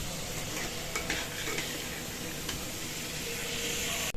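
Fish curry sizzles steadily in a wok with oil and ground ginger and cumin paste, a continuous close hiss broken by a few soft scrapes and knocks of stirring, with no talk.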